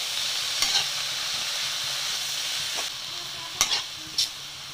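Onion and egg burji fries in a pan with a steady sizzling hiss, broken by a few sharp scraping strokes of a spatula stirring, close and without talk.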